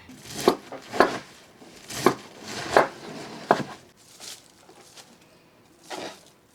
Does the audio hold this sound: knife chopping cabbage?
yes